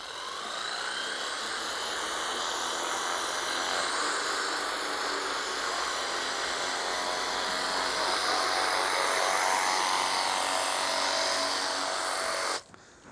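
A foamer sprays bike shampoo onto an e-bike in a steady, continuous hiss lasting about twelve seconds, close and fairly loud, cutting off abruptly at the end.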